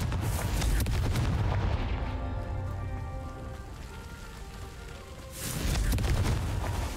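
A Confringo fire spell cast in the video game Hogwarts Legacy, heard as a loud crackling, booming burst that fades into a softer tonal hum before a second fiery burst near the end.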